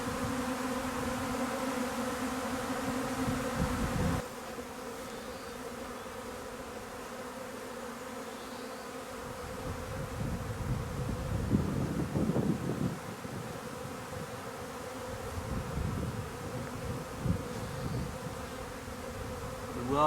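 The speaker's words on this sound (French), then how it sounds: "l'essaim est en train de se positionner à ce niveau là" Honey bee swarm buzzing densely near a hive outdoors, a continuous close drone with light wind noise on the microphone and occasional handling bumps.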